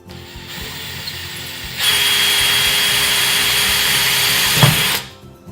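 A power drill bores a pilot hole for rack shelving, whirring at a steady high pitch for about three seconds, loud and close, after a short quieter run-up, then spins down; no talking.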